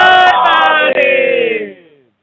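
A crowd roars a religious jaikara war cry in unison at a neighbourhood gathering, one loud sustained massed shout of many voices that swells, holds for about two seconds, then trails off into silence.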